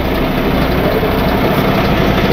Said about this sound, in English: Put it in gear and see if you can drive forward.